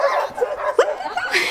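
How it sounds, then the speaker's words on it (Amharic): A dog gives a few short, yipping barks, close and fairly loud, with some whimpering in between, played as an animal sound in a children's lesson. "እስኪ እናዳምጥ የውሻ ድምፅ"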